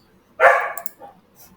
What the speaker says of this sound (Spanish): ahora que sí, no también tengo un perro ahí